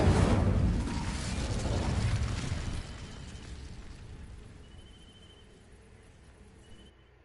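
An Incendio fire spell in Hogwarts Legacy sets dry vines alight, with a loud roaring whoosh and rumble at the start that slowly fades into a quieter crackling burn over several seconds, with no talking.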